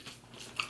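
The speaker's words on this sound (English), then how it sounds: "I like crunchy stuff." A crunchy taco shell is bitten into close up, giving a quiet, brief crunch followed by a sharper crack near the end.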